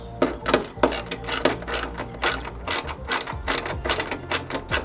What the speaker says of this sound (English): this is when you grab your big ratchet, and we get the 14 millimeters